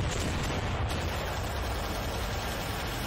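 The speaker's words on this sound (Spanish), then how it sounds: "Las naves de los jueces lo detectan y destrozan todo a balazos" Gunfire from the judges' ships in Judge Dredd, a dense, continuous barrage of shots and blasts that blur into a loud, rough roar for a few seconds, close and alone without talking.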